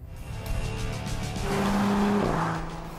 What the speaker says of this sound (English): That's what makes this car accelerate so powerfully.